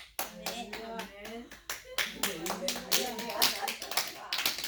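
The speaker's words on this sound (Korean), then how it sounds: "박수까지 터져 나올 줄 몰랐네." A church congregation breaks into scattered applause during a sermon, a ragged run of claps with some taps, mixed with voices and cheering.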